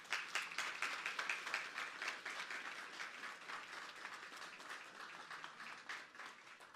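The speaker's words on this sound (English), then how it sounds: "I want you to give all of the scholars a wonderful round of applause" An audience at a school district scholars reception gives the honoured scholars a round of applause, dense, even clapping from many people at a distance, fairly faint and steady throughout.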